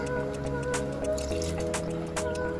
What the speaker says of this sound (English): I'm going to pour in my coconut milk.